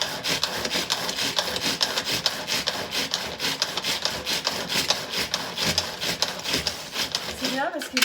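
A knife chops shallots and wild herbs on a board in fast, steady, close repeated strokes, loud and continuous, ending in a brief clatter.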